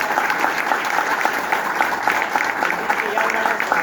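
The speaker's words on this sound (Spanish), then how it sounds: "Un aplauso a..." Audience at a history seminar on the 1866 Combat of Dos de Mayo applauding in steady, dense clapping that fills the room at a moderate level.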